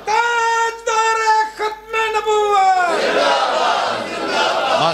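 A mosque congregation at Friday sermon in Faisalabad shouting a phrase loudly in unison, following a sustained chanted line, the crowd roar swelling and filling the room.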